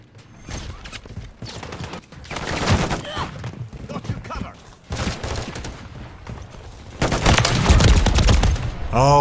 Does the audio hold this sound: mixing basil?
no